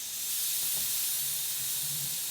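Air hissing steadily as the pressure in a mountain bike rear shock equalizes, a faint continuous close-up hiss with no talking.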